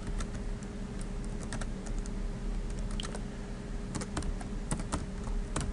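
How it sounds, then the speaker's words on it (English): Text is typed on a computer keyboard at a steady pace, with quick clicking keystrokes close to the microphone and a few louder clustered presses over a faint background hum. "You can type text up here."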